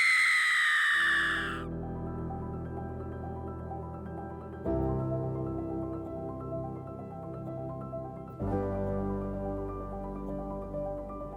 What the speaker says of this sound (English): with that, Betty Lou screamed